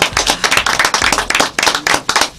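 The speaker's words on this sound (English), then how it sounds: "Let's give him another round of applause." An audience claps loudly at a Southern California Ashanti community event, the dense applause running unbroken and close for the full stretch, with no talking over it.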